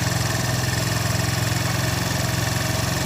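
A 2025 Suzuki GS150 motorcycle with a misfiring fault runs steadily close by, a pulsing mid-pitched engine throb with a rhythmic vibration and no talk over it.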